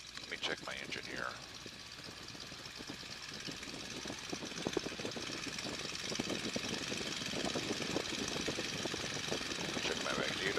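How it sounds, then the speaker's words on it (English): A cold light aircraft piston engine idles steadily during a magneto check before flight, a continuous rumbling drone with fine rapid pulses that grows slightly louder over time. "Let me check my engine here."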